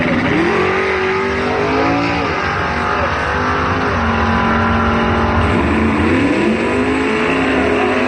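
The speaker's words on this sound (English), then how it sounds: "The dragster taking the win." Drag racing cars, a dragster and a Nova, roaring down the strip at a drag race, a loud sustained engine wail with rising and falling pitch as they accelerate, close and continuous.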